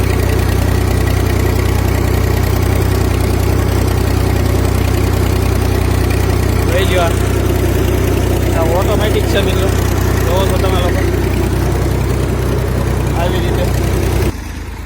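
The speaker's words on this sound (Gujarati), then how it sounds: "અત્યારે આ ટ્રેક્ટર બીજા ગેરમાં ચાલે છે" A loud, steady engine of a homemade GPS-guided tractor running in second gear drones close by throughout, with a person talking briefly over it midway.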